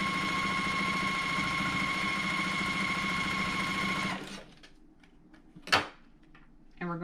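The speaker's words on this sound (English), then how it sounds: "and then we'll sew that" A sewing machine stitching a quilt block seam, a steady close mechanical whir for about four seconds, then stopping, followed by a brief clunk and faint handling noises.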